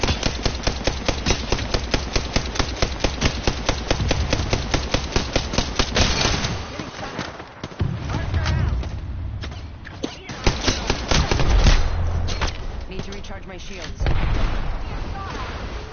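Rapid bursts of gunfire from a sci-fi shooter video game, a steady run of loud evenly spaced shots for about six seconds, then heavier blasts and rumbling combat noise, with game voice lines over it.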